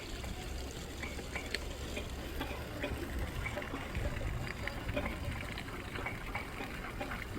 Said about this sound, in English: There's the water. That's what fills up the car up top.